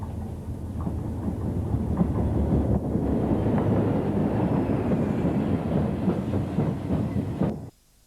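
A loaded coal train rolls through a junction on the Harworth branch line, a loud, continuous rumble with rhythmic clickety-clack of wheels over rail joints that cuts off abruptly near the end.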